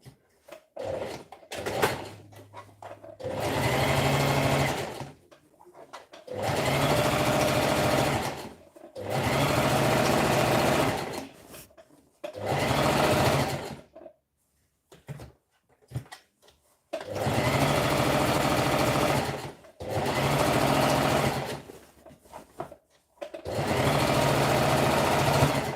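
A sewing machine stitches a seam to the end in repeated bursts of steady whirring and rattling, each several seconds long and separated by short pauses, loud and close, with no talk.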